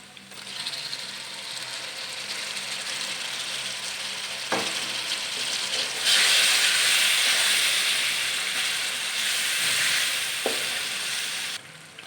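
Tomatoes sizzling in ghee with masala for a Punjabi tinda dish, a steady close frying hiss that swells louder partway through, with a couple of sharp clinks of a utensil against the pan.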